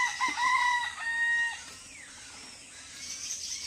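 A rooster crows loudly and close by, a drawn-out cock-a-doodle-doo with a few broken notes, followed by softer clucking and a trailing call against a quiet background.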